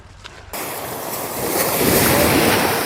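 Sea waves washing onto a beach at Koh Phayam, a soft breaking wash that swells and grows louder after a brief quiet start, with some wind noise on the microphone.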